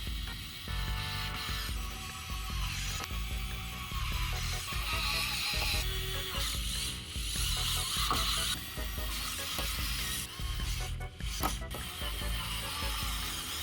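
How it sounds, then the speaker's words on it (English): A screwdriver turns screws during a PC build, a continuous run of close ratcheting and grinding clicks over a busy background bed. "Hand the ceremonial screwdriver to your glizzy."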